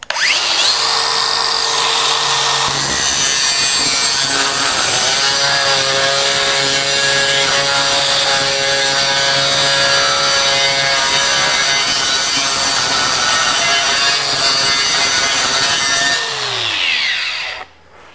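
A DeWalt FlexVolt DCG418 angle grinder bites into steel angle iron, giving a loud, steady high-pitched grinding whine that holds for about sixteen seconds before spinning down and cutting off.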